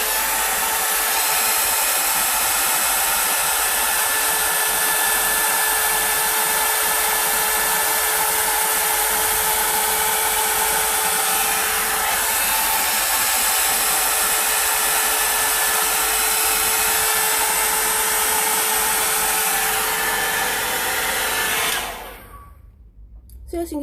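A Vidal Sassoon hot air styler blow-drying hair gives a loud, constant close-up whoosh and motor hum for about twenty-two seconds before it is switched off.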